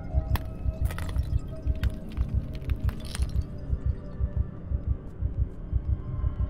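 A steady thumping heartbeat from the video game Project Zomboid pulses in a regular low rhythm throughout, with a few faint clinks and scrapes of game noise over it early on, no talk.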